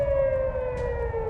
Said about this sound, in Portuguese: Em algumas partes do país, sirenes soaram à medida que os mísseis e drones se aproximavam.